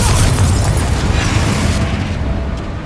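A Confringo fire spell blasts in Hogwarts Legacy, a loud, sustained booming burst with rumbling low end and crackling fire that tails off slightly over about three seconds, with no talk.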